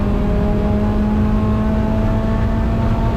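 Onboard a race car at Gingerman Raceway, the engine drones loud and steady at high revs with a strong whining tone, close and constant throughout with no voices.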